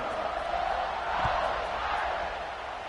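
A football stadium crowd roars before kickoff, a broad, sustained wash of cheering that stays steady and distant-sounding, with an announcer's voice faintly over it.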